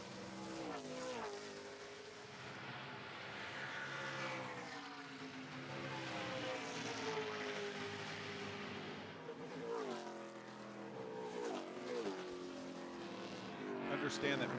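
ARCA Menards Series West race cars circle Portland International Raceway, engines droning and shifting pitch at a distance beneath continuous commentary.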